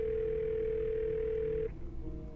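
A steady telephone dial tone rings on for about a second and a half while placing a call in the mystery game Ghost of Thornton Hall, then cuts off into a quiet line.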